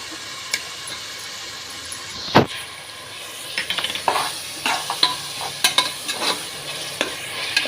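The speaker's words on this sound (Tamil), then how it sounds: "இப்போ வந்து இஞ்சி பூண்டு பேஸ்ட் போட்டுக்கலாம்." Onion with ginger garlic paste sizzles in a pan for mutton biryani, a steady frying hiss under repeated clattering stirs and scrapes of a spoon against the metal, growing busier toward the end, with no speech.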